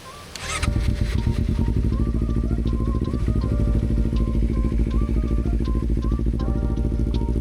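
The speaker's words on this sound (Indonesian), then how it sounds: "sebelum kita berangkat kita panasin dulu motor kita" A motorcycle engine in Sport Plus mode fires up and settles into a steady, throbbing warm-up idle, loud and close, with a faint high tone wavering above it.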